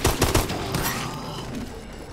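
Rapid gunfire from the MP11 in Call of Duty Advanced Warfare Exo Zombies: a quick burst of several close, loud shots at the start, trailing into a dense rumbling wash of game noise.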